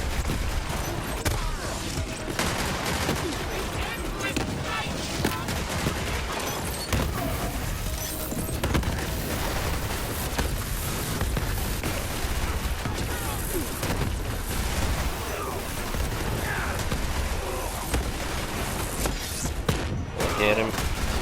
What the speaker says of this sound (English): I got a corrosive gun.